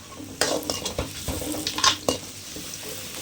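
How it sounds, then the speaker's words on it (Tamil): Ginger garlic paste frying in a pan with oil, a steady sizzle broken by repeated scraping stirs of a spoon against the metal, close and fairly loud, no voices. "இப்போ இஞ்சி பூண்டு பேஸ்ட் போட்டு நல்லா வணக்கிடுங்க"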